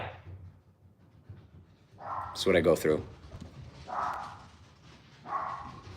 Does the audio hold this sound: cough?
no